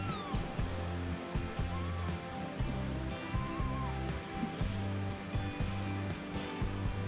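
Kittens give faint meows over loud, rhythmic background music during a makeup session.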